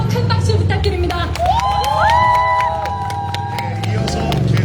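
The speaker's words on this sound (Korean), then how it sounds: "다시 한번 큰 박수 부탁드립니다" A large outdoor crowd at a Democratic Party campaign rally in Seogwipo, Jeju cheers and applauds loudly and continuously, with shouts and whoops rising over the steady clapping and a voice carrying through the din.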